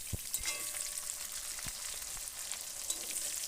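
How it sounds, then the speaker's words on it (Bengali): Chopped onions and whole garam masala frying in hot oil for a chicken curry give a steady, close, broadband sizzle with scattered crackles and pops throughout. "ওই তেলের মধ্যেই দিয়ে দিতে হবে গোটা গরম মশলা, এবং মশলাটা একটু ভাজা হয়ে গেলে ওর মধ্যে দিয়ে দিতে হবে কেটে রাখা পেঁয়াজ কুচিগুলো"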